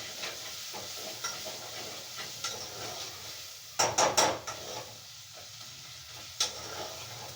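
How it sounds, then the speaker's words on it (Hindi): Spices frying in a pan, a quiet steady sizzle with intermittent stirring scrapes and a short burst of metallic clanks from spoon on pan near the middle, no talk. "थोड़ा सा ये भुनाई इसकी हो जाए फिर हम डालेंगे इसके अंदर टमाटर।"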